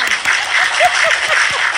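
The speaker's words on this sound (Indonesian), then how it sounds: "Bisa. Tepuk tangan." Brief burst of audience clapping during a live comedy stream, a dense even patter of many hands heard close and fairly loud, with a faint voice murmuring beneath.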